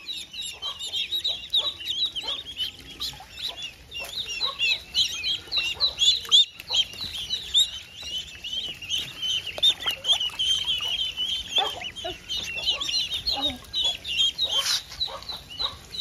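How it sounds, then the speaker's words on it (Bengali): Mother ducks call continuously to their ducklings on a farm, a dense stream of rapid, high-pitched peeping and chirping that runs steadily throughout, with faint low rustling beneath and no talking. "কন্টিনিউয়াসলি মাগুলো ডাকতেছে, এই জন্য হাঁসের বাচ্চাগুলো একদম পাগল হয়ে গেছে মায়ের কাছে যাওয়ার জন্য"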